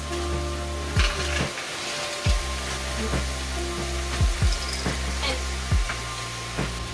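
Frozen peppers cook in spices in a pan with no oil, giving a low sizzle with repeated scraping strokes and knocks of a spoon against the pan at a loose, steady pace.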